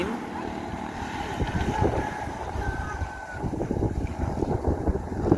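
Wind gusts buffet the microphone outdoors during a pigeon training release, a continuous low rumble with fluctuating intensity.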